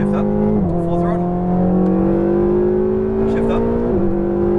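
A Ferrari 488 GTB V8 pulls hard at full throttle on a Las Vegas track, its loud engine note rising steadily with two sharp upshift drops, while an instructor's voice talks over it.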